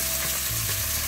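Beef sears in olive oil in a pot for a potato stew, a steady close hiss and sizzle with a faint clink of stirring.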